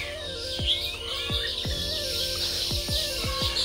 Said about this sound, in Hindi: आपको हमारे घर पे ऐसे चिड़िया का मुर्गी का आवाज़ सुनने को सुनने को मिलेगा